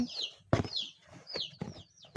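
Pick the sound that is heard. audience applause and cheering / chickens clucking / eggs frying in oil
chickens clucking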